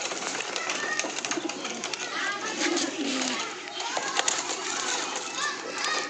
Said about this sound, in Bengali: এটা নাকি ওর বাড়ির সেরা কবুতর।